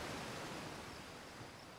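Steady rushing water from a waterfall in the video game Outer Wilds, a soft constant hiss with no distinct splashes, alone and fairly faint.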